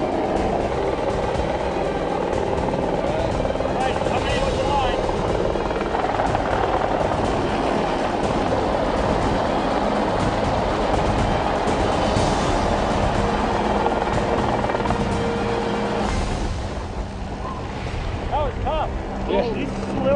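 A helicopter carries bighorn sheep slung beneath it by cable in a reinforced bag. Its dense rotor and engine roar runs continuously and loudly, easing slightly near the end.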